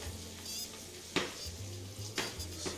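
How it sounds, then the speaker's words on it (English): Steady sizzling of rainbow trout frying in a pan, with a couple of sharp clinks of a utensil against the pan over the constant hiss. "Let that fry just a little bit."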